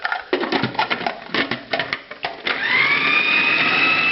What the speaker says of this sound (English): And now we're going to blitz this up.